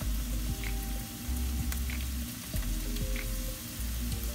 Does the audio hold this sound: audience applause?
no